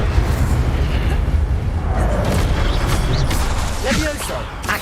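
Roaring, crackling burst of the Incendio fire spell during combat in Hogwarts Legacy, a steady dense rumble with sharp pops under a player's voice.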